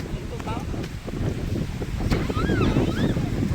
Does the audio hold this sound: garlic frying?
no